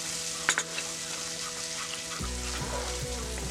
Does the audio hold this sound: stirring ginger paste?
yes